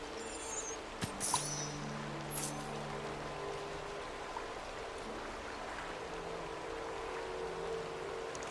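Rain falls in the video game Disney Dreamlight Valley as a steady, soft hiss of droplets that runs through the whole stretch, with a couple of faint brief clicks near the start.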